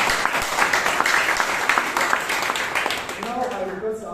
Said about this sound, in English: Give a huge round of applause for